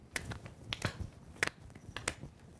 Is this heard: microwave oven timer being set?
no